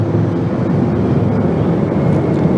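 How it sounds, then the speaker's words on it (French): Three helicopters of the presidential transport squadron pass over a military parade, a loud, steady rotor and engine roar with rumbling wind noise and no clear talk. "c'est 3 hélicoptères qui viennent encore de passer"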